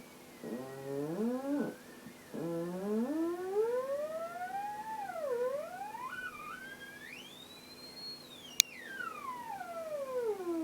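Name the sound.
homemade transistor-based theremin pitch tone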